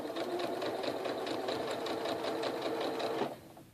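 A sewing machine stitches a straight seam in fabric, running at a steady fast rhythmic hum for about three seconds before slowing and stopping, close and clear with no talk.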